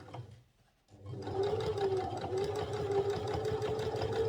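A sewing machine stitches around a round collar curve, starting after a brief pause and then running as a steady, close, mid-pitched whir with a fine rapid needle patter, no voices.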